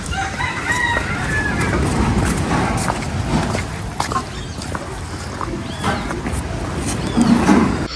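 Outdoors in the village of Las Animas, Mexico, a rooster calls with a couple of brief crowing bursts and clucks over a constant background hiss of wind and surf.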